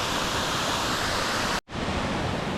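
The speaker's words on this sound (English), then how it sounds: "Here's that last waterfall we're at, and there's another cascade above it." Waterfall cascading into a rock pool on Branch Creek near Bellthorpe, a steady loud broadband roar of falling water filling the whole clip, with one brief dropout near the middle.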